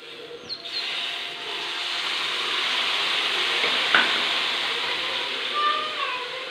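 Tamarind soaked in water is squeezed and poured into a pan of simmering dal (parippu) curry, giving a steady, even hiss of liquid that runs for several seconds with no voices.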